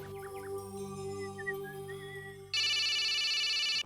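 A phone ringtone bursts in abruptly near the end, loud and steady for over a second, after a quiet stretch of soft tonal background music in a domestic drama scene.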